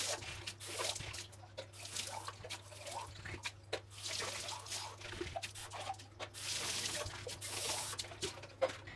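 Running tap water splashes and trickles over baby bottles being washed, a continuous close spatter with small drips and clinks and brief pauses as bottles are handled.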